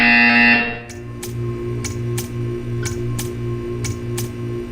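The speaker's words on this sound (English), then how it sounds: "You will hear a buzzer." Portal 2 video game buzzer: a loud electronic tone cuts off early, followed by a regular series of sharp ticking pulses over a low humming backdrop, with no talk.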